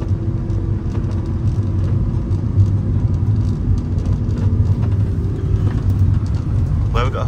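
An airport transfer bus in Ibiza drives along with a steady, loud engine rumble and road whir throughout, with a brief clatter near the end.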